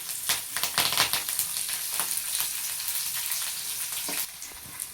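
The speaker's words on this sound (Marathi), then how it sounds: "तर या मिरच्या अशा टाकून तळून घ्यायच्या." Chopped green chillies frying in hot oil for poha chivda, a steady bright sizzle and crackle with dense popping bursts, loud and close with no voices.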